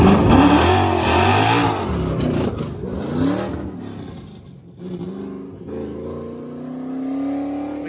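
A naturally aspirated Camaro and a manual-shift Mustang drag race on a Chicago street, engines revving loud and sweeping up in pitch through shifts, then fading off into the distance.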